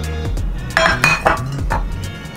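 Petromax enamel plates clink and knock against each other as they are handled, a few short close ringing taps over a low background hum.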